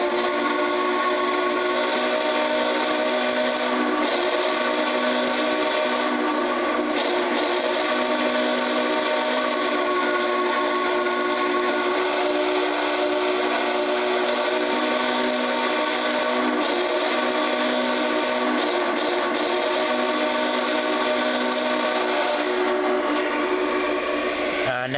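A Lionel Union Pacific Big Boy 4014 model train sounds its steam whistle, a sustained multi-tone chord blowing continuously and fairly loud over faint running noise.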